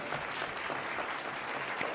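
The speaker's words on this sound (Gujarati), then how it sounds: "તો આપણે પણ તાળીઓથી તમને શુભેચ્છા પાઠવીએ" Audience applause at a real estate awards ceremony in Vadodara, a steady wash of clapping from a seated crowd, moderately loud and sustained throughout with no voices over it.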